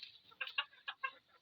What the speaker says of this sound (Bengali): আবার ভিতরে আছে দুইটা মুরগি